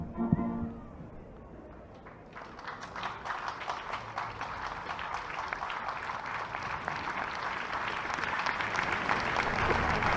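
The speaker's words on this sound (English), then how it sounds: "Big cheer." A large crowd at an Irish Free State versus Belgium World Cup qualifying football match swells into a loud, sustained cheer as the team comes out, steady roaring and clapping building over several seconds.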